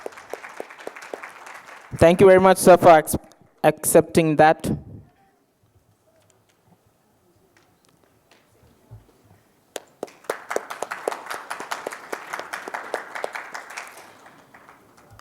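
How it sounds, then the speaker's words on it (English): An audience at a UK study seminar claps for a speaker in a steady burst of applause lasting several seconds. It follows someone speaking and then a stretch of near silence. "And big round of applause."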